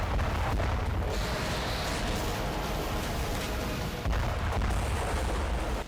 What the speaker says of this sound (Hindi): और एक बार फिर बम और मिसाइलों के शोर से सहम गए यूक्रेन के कई शहर।